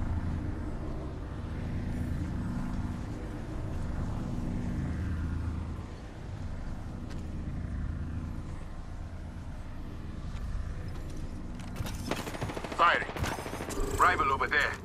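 Gunfire in Apex Legends: a steady low rumble of action gives way near the end to sharp, loud bursts of shots, with in-game voice callouts mixed underneath.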